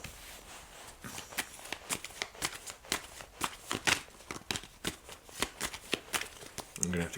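Tarot cards being shuffled by hand in a quick rhythmic series of crisp riffling snaps, close and fairly loud, about a dozen bursts in a row.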